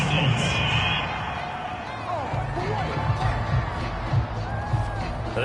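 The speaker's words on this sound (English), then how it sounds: "This home crowd, they're happy with that call." A home crowd in a PS4 football video game cheers and whoops after a penalty call, a steady broadcast-style roar with scattered shouts and brief swells.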